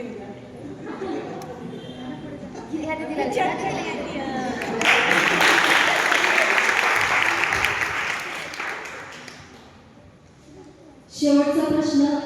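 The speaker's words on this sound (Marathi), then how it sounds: "टाळ्या वाजवा" An audience at a church Christmas program claps, the applause swelling to a dense, full roar of many hands and then fading, before a voice speaks over a microphone at the end.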